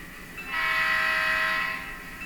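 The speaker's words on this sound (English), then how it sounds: "now when we listen to the air horn, you can hear a little bit more of that presence" A Missouri Pacific GP15 model locomotive fitted with a Blunami BLU-PNP8 sound decoder gives one sustained air-horn blast with added reverb, a bright chord lasting about a second before ringing away.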